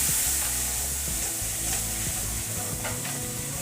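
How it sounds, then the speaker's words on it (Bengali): A spice mix with ground coriander and cumin sautés in a pan with a little water, a continuous close sizzle broken by stirring scrapes and light clinks. "ভালো করে এটা কষিয়ে নিচ্ছি।"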